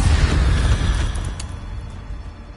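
An Incendio fire spell cast in Hogwarts Legacy, heard as a loud, close, roaring whoosh of flame with booming low rumble that slowly fades over a couple of seconds.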